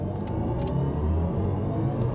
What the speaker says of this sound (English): I will pop the car into sport, and actually let's just launch it from 30 to 60